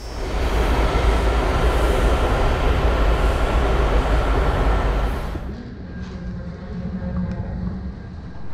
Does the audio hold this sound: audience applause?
no